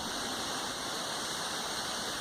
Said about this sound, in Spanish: aquí observando las cascadas, el río